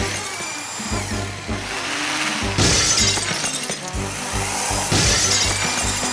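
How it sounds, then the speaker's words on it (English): Loud whining power drill running in bursts, with sharp crackling, shattering noises as it bites through ice, repeated twice. "The drill is running at full power."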